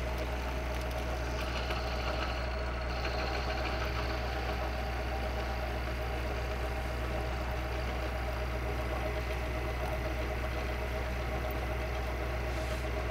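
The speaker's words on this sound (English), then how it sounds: "And I'm using a high-speed steel cutter in here." A milling machine takes a cut in cast iron with a high-speed steel cutter, giving a steady, continuous mechanical drone with a constant low hum that holds at an even level throughout, with no talking.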